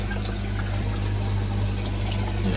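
Water trickling and pouring into a Nexus pond filter, a steady close liquid flow with a low hum beneath it, unbroken for a few seconds and no talk.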